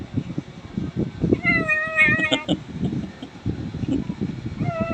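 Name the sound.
angry hungry white pet cat meowing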